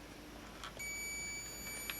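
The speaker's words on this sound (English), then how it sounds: "we can hear an audible beep" An Olympus XA camera's battery check gives a thin, steady high-pitched electronic beep that starts after a brief quiet moment and holds unbroken to the end, faint but clear.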